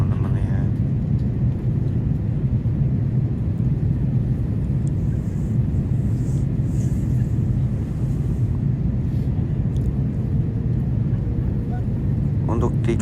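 A Garuda airliner cabin on approach to Soekarno-Hatta Airport in Jakarta fills with a loud, constant low rumble and engine roar that runs unbroken through the whole stretch.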